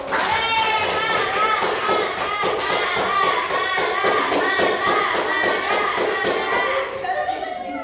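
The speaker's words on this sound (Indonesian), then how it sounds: "Kita kasih aplaus dulu." A classroom audience of children clapping for their teacher, dense rapid applause that carries on steadily for several seconds, with children's voices mixed in before it thins at the end.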